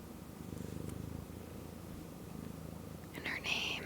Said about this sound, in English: She's a very special kitty